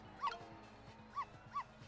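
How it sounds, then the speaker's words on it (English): Small dog barking in the puzzle adventure game Ghost Trick: Phantom Detective, three short, soft yips spaced irregularly over a quiet low background hum. "Can't you bark any louder than that?"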